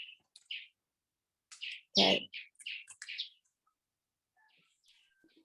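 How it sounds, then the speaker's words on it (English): Birds chirp in the background in short, bright bursts of tweets and calls, fairly close and clear against near silence, with a brief spoken word mixed in. "Do I hear birds in the background?"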